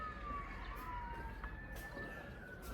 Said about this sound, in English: Got a little sirens going here.